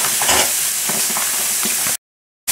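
Onions fry in a pan with liver, giving a loud, continuous sizzle with a few crackles before it cuts off abruptly.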